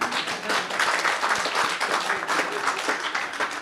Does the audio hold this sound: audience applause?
yes